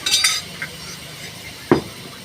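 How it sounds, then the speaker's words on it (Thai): Beef balls and fish noodles being stir-fried in a pan, with a few metallic clinks of a utensil against the pan over a soft sizzle and one sharp scrape near the end. "แล้วก็มาผัด นี่"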